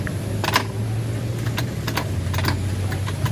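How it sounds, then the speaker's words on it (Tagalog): A Suzuki Burgman Street scooter knocks on its left side when riding over potholes: sharp clicking knocks repeat irregularly over a steady engine hum, moderately close. "kapag biglaan lang talagang daan kayo sa lubak is may lagutok talaga sa kaliwang bahagi"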